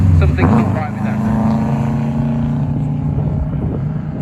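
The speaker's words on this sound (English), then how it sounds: "the engine sounds fine, but something's not right with that" A rally car engine runs at a stage rally in East Riding, its low, steady drone holding for about four seconds close by, with a voice talking over it.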